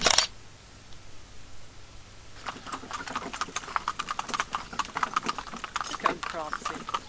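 Ponies' hooves clip-clop in a steady trotting rhythm, close by, pulling carriages in pairs driving, with scattered voices and some outdoor noise around them.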